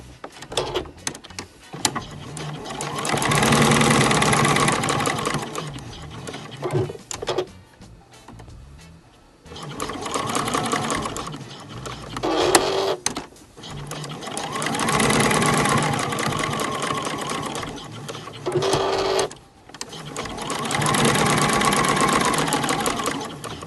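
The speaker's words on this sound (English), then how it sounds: "take it over to the machine and sew down the outside raw edge of each piece" Sewing machine stitching down the raw edges of small fabric scrap pieces for hexagon fabric roses, running in several long steady bursts with brief pauses between them, close and loud with no talking.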